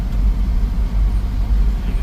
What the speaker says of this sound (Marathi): गाडी चालूक मजा येतं